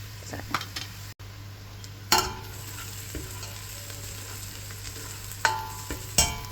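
Ginger and onion sauté in a pan with a soft, steady sizzle, punctuated by several sharp metallic scrapes and clinks of a utensil stirring against the pan, close up.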